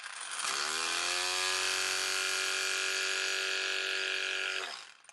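A 12V car-powered electric impact wrench spins up and runs unloaded with a steady high-pitched motor whine for about four seconds, then winds down; close and alone.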